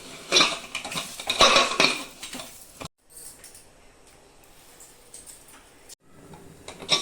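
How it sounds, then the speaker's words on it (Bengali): Metal clatter and clinks as the lid goes onto a pressure cooker of mutton curry, busy and close for the first few seconds, then a quiet hollow stretch with only faint rustling. "প্রেসার কুকারটা আমি এখন ঢেকে দিব।"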